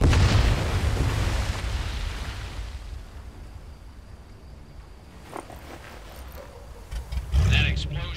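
A large explosion in the VR shooter Medal of Honor VR, a loud deep boom that slowly fades into a low rumble, followed by faint clatter and a short burst near the end.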